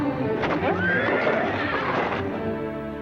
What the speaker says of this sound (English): My horse slipped in the mud.